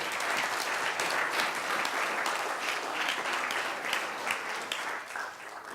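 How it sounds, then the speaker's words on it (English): A lecture audience at Imperial College London breaking into steady, full applause for a catch, a dense wash of clapping from many hands that eases slightly near the end. "Well, there's a round of applause for that catch."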